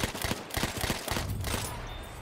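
Submachine gun fire in the Battlefield 1 video game rattles in rapid, loud bursts, then a lighter trailing stretch of shots and battle noise.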